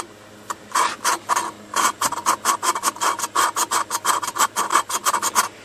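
Rhythmic gritty grinding strokes, an engine valve being lapped by hand with lapping compound against its seat in quick repeated bursts with short pauses between, close and clear.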